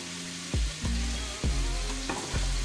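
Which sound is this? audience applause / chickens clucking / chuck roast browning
chuck roast browning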